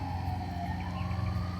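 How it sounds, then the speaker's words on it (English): An emergency vehicle siren wails steadily in the distance behind a backyard deck with a gazebo, faint but continuous throughout. "You got a little bit of a siren background in the back."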